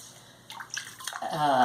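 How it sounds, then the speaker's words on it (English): A sponge soaks up water from inside a clay pot on a pottery wheel, soft wet dabbing and sloshing with light drips, faint and close, building slightly toward the end. "Then the last thing is to get the water out from inside the piece."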